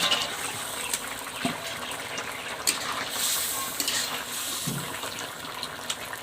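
Fish pieces sizzle in hot oil for a Bengali fish curry, a steady hiss and crackle with occasional spatters and a stirring clink, close and alone.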